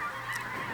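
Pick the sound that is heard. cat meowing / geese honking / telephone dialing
geese honking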